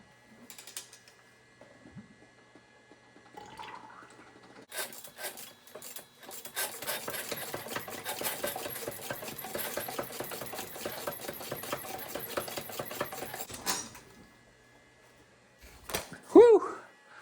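A blown BMW M5 V10 engine is turned over slowly during a compression test, giving a steady ratcheting, whirring mechanical churn for several seconds at moderate level, with faint clicks before and a short exclamation after.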